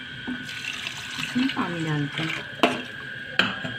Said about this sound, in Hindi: एक जार पानी डाल देते हैं। पानी डालते हैं।